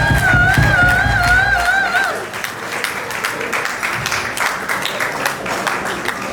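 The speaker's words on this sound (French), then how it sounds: "Est-ce qu'on peut applaudir pour Thérèse?" Guests at a graduation ceremony in Quebec City break into applause; a sung or hummed melodic voice fades out as broad, even clapping takes over and continues steadily.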